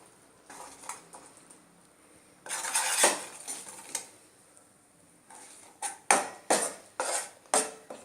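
Rice flour being stirred into hot syrup in a pan for adhirasam, bursts of scraping and clattering spoon-against-pan strokes, some rhythmic and close, between quiet pauses, no talk.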